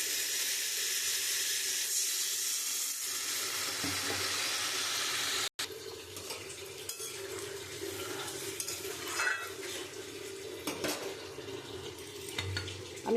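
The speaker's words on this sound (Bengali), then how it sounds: "এবার আমি পরিমাণ মতন জল দিয়ে দেবো।" Water poured onto a fried spice paste in a pan for a rohu fish and ridge gourd curry gives a loud, steady sizzling hiss for about five seconds. It then drops to softer bubbling with light scraping.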